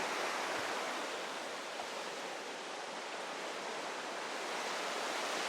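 The Louisa River on the South Coast Track flows with a steady, dense rushing wash that stays loud and even throughout, with no voices.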